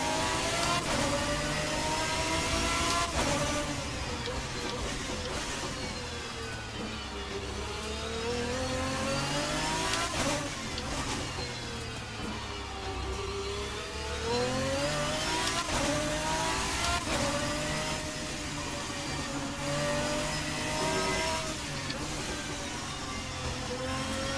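A GT1 race car lapping Okayama in Assetto Corsa snarls continuously, its engine rising and falling through repeated gear shifts, loud and alone.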